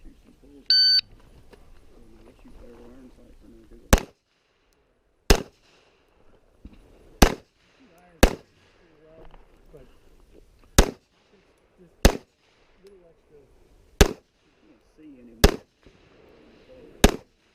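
Pistol shots at an IDPA shooting match ring out as nine sharp, loud cracks at uneven intervals, with quiet talk murmuring between them and a brief electronic beep at the start.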